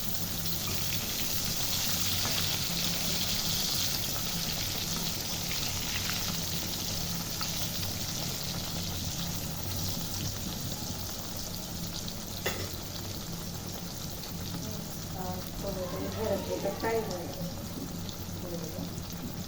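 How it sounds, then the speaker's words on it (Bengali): Slices of ash gourd fry in oil over medium heat, making a dense, constant sizzle that stays close and strong. A short metallic clink comes partway through, then softer bubbling crackles near the end. "আমি মাঝারি আঁচে এটিকে 6 মিনিট এক সাইড ভেজে তারপর উল্টিয়ে দিব।"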